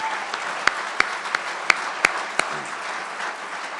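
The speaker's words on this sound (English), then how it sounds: "Let's give them all a big round of applause." Scattered claps ring out against a steady crowd hubbub at a ramp opening ceremony at the Peace Bridge Plaza, a few sharp hand claps standing out over a thin, brief smattering of applause.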